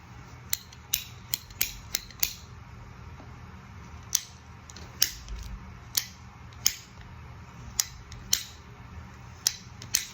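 A PVC pipe cutter ratchets through PVC pipe with a string of sharp, close mechanical clicks at uneven intervals over a faint background hiss.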